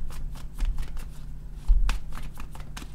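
Tarot cards being shuffled and drawn, with a run of soft papery riffles and flicks followed by several crisp slaps as cards are pulled and laid down, close and fairly quiet with no talking.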